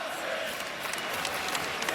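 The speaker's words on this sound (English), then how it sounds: "Now they're chanting his name." A UConn basketball crowd at a Gonzaga vs UConn game in the arena chants a player's name, a dense, continuous roar of many voices with rhythmic swells, heard at a distance.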